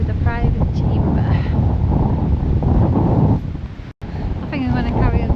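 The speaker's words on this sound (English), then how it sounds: "It's very windy up here." Strong wind on an exposed hilltop buffets the microphone in a loud, continuous roar, with a brief lull near the end; a voice speaks faintly over it at the start and close.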